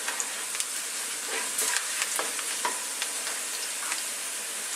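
Onions hitting hot oil in a wok over high heat for a Chinese tofu and beansprout dish, a loud, continuous sizzle with scattered crackles and pops up close.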